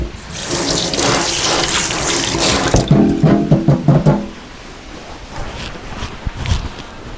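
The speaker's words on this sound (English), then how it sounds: "Rinse off my tools." Kitchen tools are rinsed under a running tap, the loud splashing stream continuing steadily before breaking into short clattering splashes and then fading to quieter scattered handling sounds.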